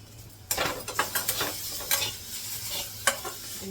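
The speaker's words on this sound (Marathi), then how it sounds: "याच कढईमध्ये चटणी परतवते." Peanut chutney is stir-fried in a wok, with a burst of scraping and stirring strikes over a soft sizzle, then quieter tossing with another sharp clack near the end.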